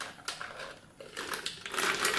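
Ice cubes dropped into the juicer jar of a Panasonic MX-AC400 mixer grinder over condensed milk, giving a close run of hard clattering knocks and rattles that build in density toward the end, with no talking.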